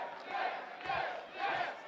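Wrestling crowd cheering for Gil Rogers at a live bout against Dak Draper, a steady roar of many voices rising and falling in three swells over a couple of seconds, no talk on top.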